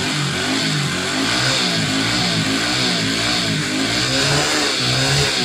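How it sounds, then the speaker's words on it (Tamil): Car engine revs up and holds at a strong, continuous roar close by during a test run after a fuel injector repair, with no talk over it. "நல்லாவே இன்னொரு டைம் கூட வண்டியை ரேஸ் பண்ணி பார்க்கலாம்."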